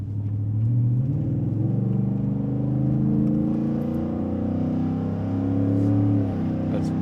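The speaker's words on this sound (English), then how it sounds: "Running 65 under throttle in 6th gear" A 2023 Ford F150 5.0 V8 with a Flowmaster Signature Series exhaust pulls hard on a highway in 6th gear at about 65 mph, a steady deep engine drone and rumble rising slightly under throttle from inside the cab.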